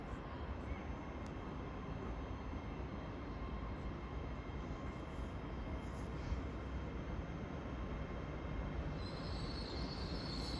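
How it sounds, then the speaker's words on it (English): A non-stopping LNER passenger train roars steadily past a station platform at close range on the East Coast Main Line at Peterborough, a continuous heavy rumble of wheels and carriages with faint squealing near the end. "The train now approaching platform 4 does not stop here."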